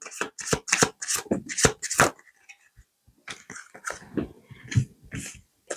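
Message cards are shuffled and drawn from a deck, a rapid run of crisp riffling snaps close up. A short pause follows, then softer scattered card flicks and taps.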